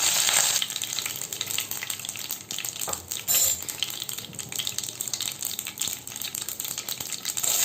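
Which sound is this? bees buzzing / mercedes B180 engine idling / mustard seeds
mustard seeds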